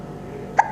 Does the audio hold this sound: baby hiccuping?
yes